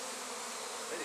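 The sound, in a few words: honey bees buzzing during transfer to a nuc box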